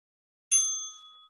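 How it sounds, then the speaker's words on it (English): A workout timer bell gives a single bright ding that rings on with clear fading tones for nearly a second, alone against silence. "Waiting for that bell."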